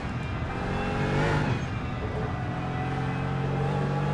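GT3 race car on the Nordschleife in Assetto Corsa, its engine droning loudly and steadily, with a short rising rev and downshift blips near the start, and no talking.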